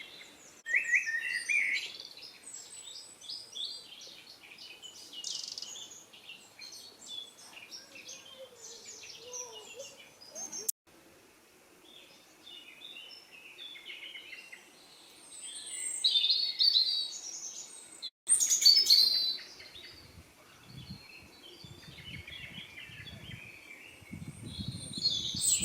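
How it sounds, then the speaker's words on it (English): Birds chirp and warble continuously in open air, several singing at once at varying distances, with quiet gaps and a low rustle near the end. "Sound of the bees and the birds."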